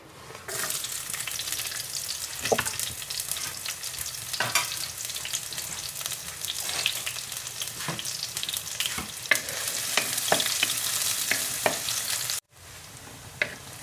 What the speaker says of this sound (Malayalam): ഇനി നമുക്ക് ആദ്യം ചെറിയ ഉള്ളി ഇതിലേക്ക് ഇട്ട് കൊടുക്കാം.